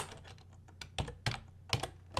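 Fingers type on a computer keyboard while entering code, giving a quick, irregular run of close keystrokes with a few harder key hits standing out.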